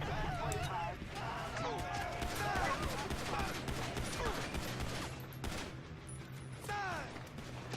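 Gunfire in Grand Theft Auto V as police are shot, rapid overlapping shots and bursts crackling through a loud, busy mix of game noise and effects.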